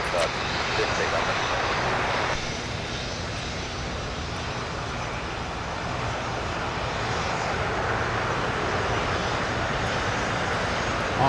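A Frontier airliner takes off from runway 25 at LAX, a broad, steady jet engine roar that holds loud and continuous throughout, heard from a distance with faint voices at times.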